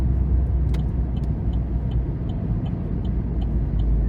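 Steady engine rumble of a 2017 Chevrolet Sonic hatchback with a 1.8-litre engine and 6-speed gearbox, droning throughout, with faint rises and small clicks as it shifts through gears.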